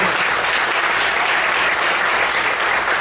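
Dense, steady applause fills a church as a congregation claps joyfully after a prayer, a continuous wash of many hands at even loudness throughout.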